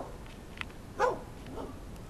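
A dog gives a few short barks behind a fence near a newly installed 2010 Goodman R410A packaged heat pump outdoors, one louder bark standing out midway over faint background noise.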